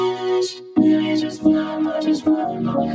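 Vocals run through a vocoder bus in FL Studio over chords, giving robotic harmonized tones that start after a short gap, then continue in sustained, shifting stacked pitches alone.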